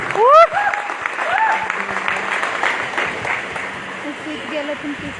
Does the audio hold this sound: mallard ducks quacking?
no